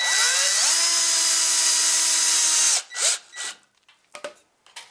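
A power drill drives a screw into wood while a tree fort rope ladder is being built. A steady whirring motor runs close and loud for almost three seconds, winds down, then gives a couple of short bursts followed by faint handling clicks.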